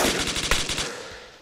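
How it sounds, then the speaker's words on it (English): Rapid automatic gunfire from soldiers clearing trenches in an Arma mod battle at Mogilevka, a dense burst of close shots lasting about a second before trailing off, with no talking. "Shoot the enemy just in case."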